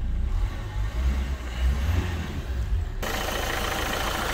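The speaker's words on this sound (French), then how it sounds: "Donc là j'accélère." A car engine revs up and accelerates after a slow start, a steady mid-pitched drone with low rumble that brightens into a louder, rougher roar partway through, with no talking.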